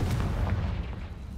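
Confringo fire spell cast in Hogwarts Legacy, a short booming fiery blast with a quick burst and rumbling tail, close and loud, no talking.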